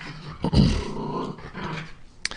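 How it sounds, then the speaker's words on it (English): A dog huffs and growls close by, a short burst of throaty rumbling followed by lower breathy growls and a brief sharp yip at the end, heard alone. "This is what everyone's here for, right? Is to hear a dog huff and puff,"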